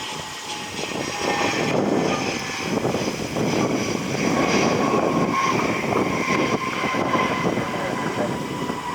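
A Delta Connection CRJ regional jet inbound from JFK, heard as a steady, loud engine roar that holds broad and constant throughout, with a faint whining tone layered on top and no voices.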